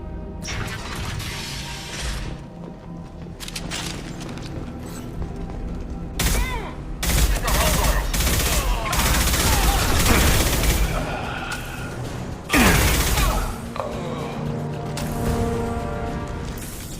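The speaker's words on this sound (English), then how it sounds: "The Blue Suns and Vorcha are shooting anything that moves." Gunfire from Blue Suns mercenaries and Vorcha in the video game Mass Effect 2, dense bursts of shots, crashes and booms that run loud throughout amid shattering impacts and game effects.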